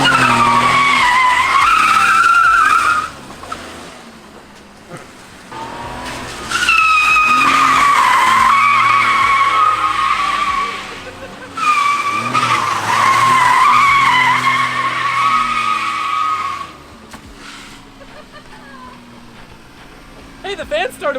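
A kei truck with a welded differential slides, its tires squealing loudly in three long bursts separated by quieter gaps, over engine noise.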